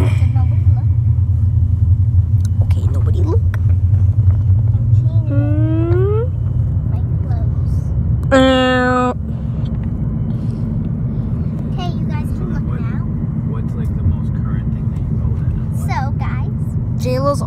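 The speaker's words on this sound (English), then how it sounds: "Now we're in the car." Low, steady engine and road rumble inside a moving car, continuous throughout, with children and adults chatting and a few voices rising over the drone.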